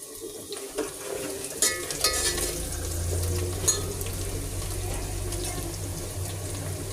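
Water runs and splashes in short bursts into gram flour being mixed for kadhi, then settles into a steady low trickle with some clinking, and no voices.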